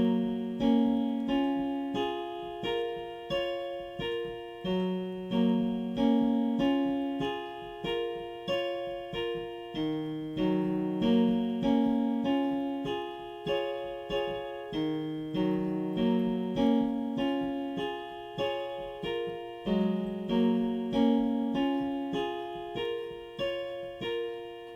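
Piano plays the first section of a song alone, a steady repeating pattern of struck chords and low bass notes in a moderate, even rhythm at a soft, close level.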